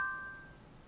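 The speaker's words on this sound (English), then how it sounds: "That was my phone" A phone notification chime rings once as a faint, clear ding that decays over about a second with no voices over it.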